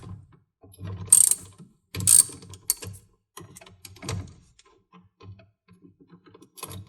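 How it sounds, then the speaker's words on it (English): A 3/8 socket ratchet on a swivel loosens bolts on a Frigidaire refrigerator, giving several quick bursts of dry clicking ratcheting spaced through the clip, close and alone, with scattered softer taps between them. "Now I kind of find to loosen these bolts, it's a 3/8 socket, but a swivel works good."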